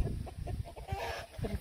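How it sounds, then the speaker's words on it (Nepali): A village chicken clucks in a quick series of short, soft calls, nearby but faint, with no one talking. "कुखुरालाई के भयो"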